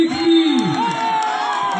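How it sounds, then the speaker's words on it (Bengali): A studio audience at a women's game show cheers for two contestants: a brief burst of loud, overlapping whoops and shouting voices, close and lively, with faint clapping underneath. "প্রিয়াঙ্কা এবং নিশা জোরে হাততালি হয়ে যাক ওনাদের জন্য।"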